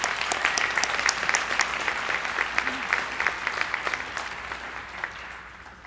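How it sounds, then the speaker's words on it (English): Clapping from a graduation crowd honoring county award winners at a 2019 spring ceremony, a steady, moderately loud patter of many hands with distinct sharp claps throughout, easing slightly toward the end. "Let's have a round of applause for all our county award winners."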